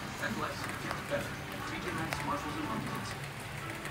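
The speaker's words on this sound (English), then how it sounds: "San Diego getting a lot of rain." Steady rain falling on a wet morning in San Diego, a dense, even hiss of drops on surfaces that keeps up the whole time, with faint voices or background sounds mixed in.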